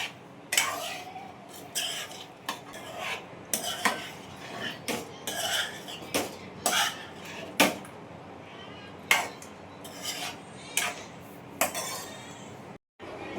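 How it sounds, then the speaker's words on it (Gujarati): Fried potatoes being gently mixed in a pan off the heat, with repeated scraping and clinking of a spoon against metal in an irregular rhythm, close and moderately loud, no talk. "બટેટા જે આપણે ફ્રાય કરેલા હતા એ ઉમેરી દઈએ"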